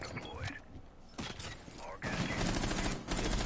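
Video game gunfire in a tense tactical round, bursts of rapid shots and impacts, loudest and densest in the second half, with a player's voice speaking briefly over the early part.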